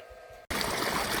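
Water gushes from the three-inch pipe of a 7.5HP Texmo pump at a 60-foot borewell in Dharmapuri district. A quieter hum cuts abruptly into a loud, broad, continuous rushing splash close by.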